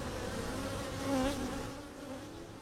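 Bees buzz faintly and continuously, with one insect's drone briefly swelling louder as it passes close.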